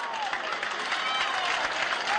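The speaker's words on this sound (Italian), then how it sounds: "ci sono altri tifosi della Propatria che si dissociano e applaudono" Football supporters of Pro Patria applaud in a stadium during a friendly against Milan, a dense, steady wash of clapping from a distant crowd filling the whole stretch.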